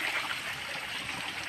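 Water flowing from a mountain spring source, a steady soft trickling and rushing stream close by, continuous and even.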